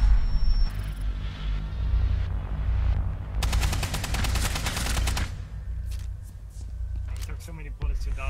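Rapid automatic gunfire in the video game Rainbow Six Siege rattles in a dense, loud burst of shots in the middle, with scattered single shots and game sounds around it and voices talking over the action.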